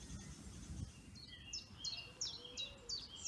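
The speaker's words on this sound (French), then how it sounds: "Je ne sais pas si vous entendez tous les oiseaux qui chantent autour de moi" Birds sing outdoors in a series of short, bright chirps that repeat in a steady rhythm over a low background rumble, fairly faint and with no talking.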